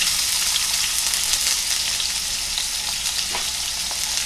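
Floured chicken fries in hot oil in a home kitchen, giving a loud, constant crackling sizzle with scattered sharper pops and no talking.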